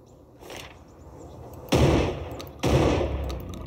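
Gunfire in a Slenderman horror video game, two loud, sharp blasts about a second apart with a fainter shot just before, echoing briefly over a quiet background.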